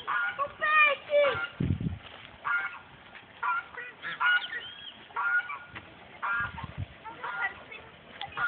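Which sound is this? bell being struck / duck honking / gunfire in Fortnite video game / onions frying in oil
duck honking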